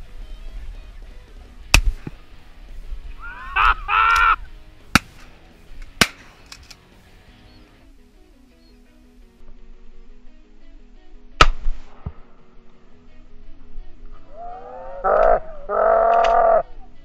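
Fulvous whistling ducks fly overhead during a Florida duck hunt, giving two short bursts of thin, wavering whistles separated by quiet stretches. Several sharp, isolated cracks ring out between the calls.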